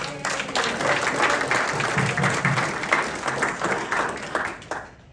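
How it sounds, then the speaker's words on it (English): Mourners at a funeral for a nun give a round of applause, a steady wash of many hands clapping at moderate distance, with a few voices murmuring underneath, tapering off and stopping at the end. "Let's give everyone a round of applause."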